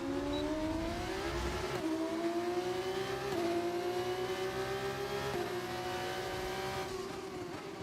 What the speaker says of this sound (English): massive lockup from Correa there